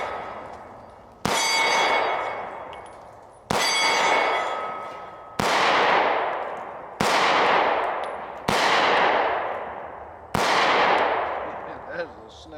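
Six loud, sharp gunshots from a Taurus TH10 10mm pistol fired at an outdoor range, spaced roughly one to two seconds apart, each with a ringing decay. No speech.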